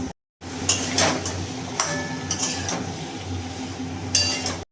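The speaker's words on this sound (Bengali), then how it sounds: "দিয়ে কিন্তু ভালো করে মশলার সাথে এবার নাড়াতে হবে" Pumpkin, vegetable stems and potato being stirred with spices in a cooking pan, making repeated metallic clinks and scrapes of a utensil against the pan over a steady background hum, close and moderately loud.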